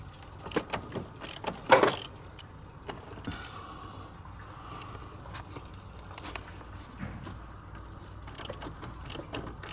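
A ratchet with socket and swivel extensions works at a coolant temperature sensor on a Lexus IS250/IS350, giving a cluster of quick clicking ratchet sweeps early on, then faint mechanical ticks and handling noise.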